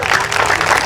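An audience clapping at a church sermon, a dense burst of applause filling the room at close range and loud throughout the short moment.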